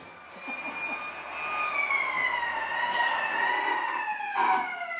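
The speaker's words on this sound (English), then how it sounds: "About a half hour later, a police car pulled up" Police car siren in an old-time radio drama, a wailing tone that rises and falls continuously for several seconds at moderate loudness, with no voices over it.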